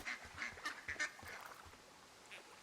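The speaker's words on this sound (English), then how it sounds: "There's some loud ducks over here." Loud ducks quack in a cluster of short, raspy calls in the Firewatch video game, several bursts close together early on, then a lone call near the end, with no talk.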